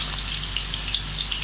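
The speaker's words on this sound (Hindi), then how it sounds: "इसी तरह हम सारी ये फ्राई कर लेंगे" Marinated chicken pieces fry in hot oil, giving a dense, steady crackling sizzle with bright popping spatters throughout, close up and alone without speech.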